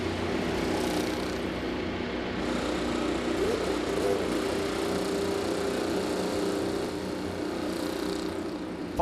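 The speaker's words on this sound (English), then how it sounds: "Drivers, start your engine!" IndyCar race car engines running together at the 2015 Firestone Grand Prix of St. Petersburg street race, a steady loud droning buzz that holds for the whole stretch, with no talk over it.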